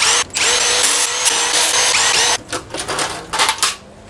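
A power tool spins 10mm hex-head bolts off a Subaru boxer H6 engine, whirring loudly and steadily for over two seconds, then continuing in shorter, uneven bursts.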